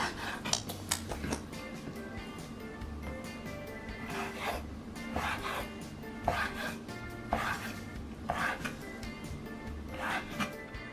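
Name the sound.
cutting up meat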